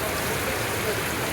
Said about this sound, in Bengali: বৃষ্টি হচ্ছে, রিমঝিম বৃষ্টি